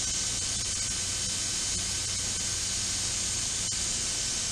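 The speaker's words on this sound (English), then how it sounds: "I can come out here and spray it off." A garden hose sprays water across a wooden deck to rinse it off, giving a steady, continuous hiss that stays constant and close throughout with no talking.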